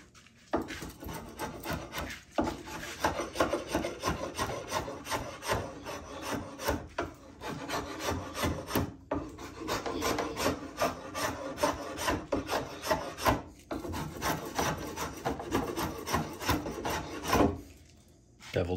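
A drawknife shaves a wooden bow stave in long, repeated rasping strokes, close and loud, with brief pauses between passes.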